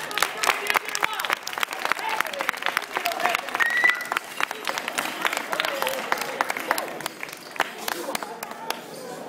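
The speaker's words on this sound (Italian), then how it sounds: "Facciamo un applauso di questo!" Audience applause at a live show, a lively crowd clapping energetically with dense, sharp claps, while voices call out and talk over the applause.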